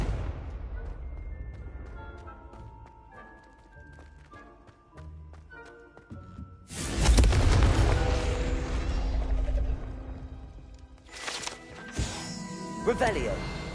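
A Confringo fire spell in Hogwarts Legacy on PS5 lands with a loud whooshing blast after a stretch of quieter tonal chimes, followed by a second burst and some thuds, with a voice speaking during the game sounds.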